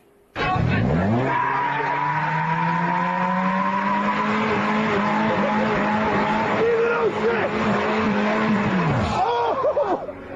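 Street racing car tires squeal in one long, loud skid lasting most of the moment, a sustained whining screech that rises in pitch and ends abruptly, heard close up.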